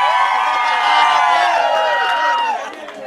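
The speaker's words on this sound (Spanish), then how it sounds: "Aplausos para Carrillo." A loud crowd cheers, whoops and claps for an award winner at a prize ceremony, sustained and close, then fading slightly near the end.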